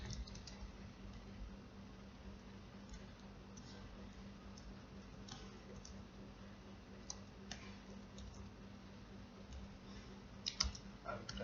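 Typing on a computer keyboard while editing text in Photoshop, with soft, steady clicking keystrokes close by under a low background hum and a few sharper taps near the end.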